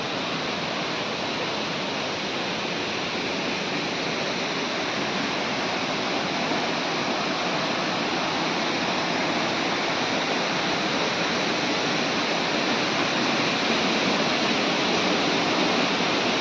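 Chatikana waterfall near a Shiva temple in the Niyamgiri hills pours in a loud, continuous, broadband rush that stays steady throughout with no pauses.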